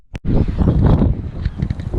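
Strong outdoor wind in Melbourne buffets the microphone in loud, rumbling gusts after a brief click, continuous and close with no voices.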